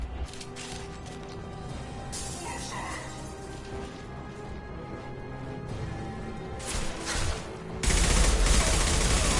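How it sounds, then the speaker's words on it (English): Gunfire erupts in a Mass Effect 2 firefight, scattered shots and impacts amid mechanical clatter before a dense, loud burst of fire near the end, with no voices. "Firing an impact shot."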